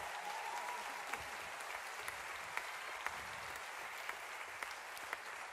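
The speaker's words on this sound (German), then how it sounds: "Applaus für den Frankie." An audience at a German comedy show applauds for a newly introduced performer, with dense, even clapping that carries steadily throughout and a few sharper individual claps standing out.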